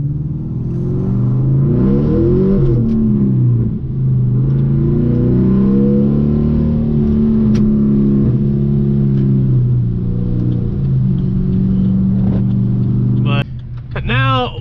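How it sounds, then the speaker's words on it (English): A car engine revs and hums steadily at close range, with the speaker talking over it throughout and a brief change near the end. "Car sound good, man."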